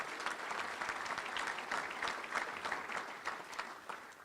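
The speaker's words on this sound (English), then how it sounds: "let's give a round of applause to all of our great sponsors" A luncheon crowd at the Little Rock Touchdown Club applauds its sponsors with a steady, fairly soft round of clapping that continues evenly for several seconds without speech.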